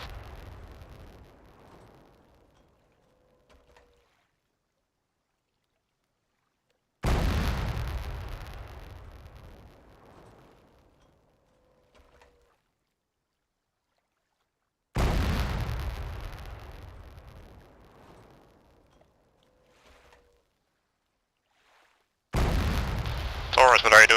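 Grenade blasts in the military shooter ArmA 3 boom out three times, each a loud sudden burst that rumbles and fades over several seconds, with near silence between them.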